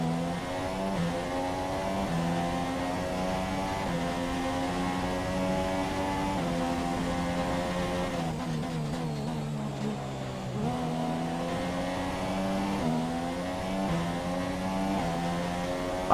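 Formula 1 cars race around Bahrain International Circuit at night in the game F1 2017, a loud, close, sustained engine whine rising and dropping in pitch through gear changes, with a sharp downshift midway and no talking over it.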